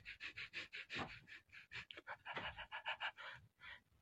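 A dog pants rapidly and sniffs in short, rhythmic bursts, close and fairly quiet, with quick breathy puffs continuing throughout and no voices.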